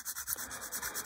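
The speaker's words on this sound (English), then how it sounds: "Just using a regular coarse sanding stick." A coarse sanding stick rubs over a plastic model kit part for a 1/48 B-25J bomber in light, quick back-and-forth strokes, about nine soft rhythmic scrapes close up with no talk.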